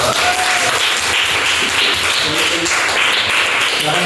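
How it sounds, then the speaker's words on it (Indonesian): Classroom applause for a group that has just presented in a mathematics lesson: a dense, steady wash of many hands clapping together, loud and continuous from start to finish. "kita beri aplaus untuk kelompok"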